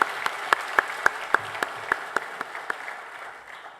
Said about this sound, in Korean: 하나님께 감사와 영광의 박수를 한번 올려드렸으면 좋겠습니다